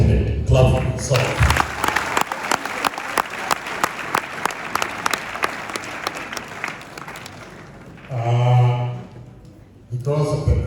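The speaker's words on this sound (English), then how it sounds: "Clap for yourself." An audience at a well-attended university program bursts into loud, sustained applause with some rhythmic claps in the mix. Voices speak briefly before and after the clapping.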